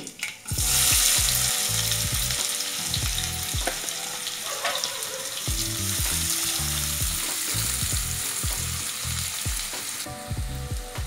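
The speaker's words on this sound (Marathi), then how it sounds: "तेल चांगलं तापलंय थोडीशी मोहरी टाकूया जिरं आणि हे दोन कांदे मी चिरून ठेवलेले" Mustard seeds, cumin and two chopped onions hit well-heated oil for a sprouted matki usal, giving a loud continuous sizzle with repeated scraping stirs of the spoon in the pan, and no voices.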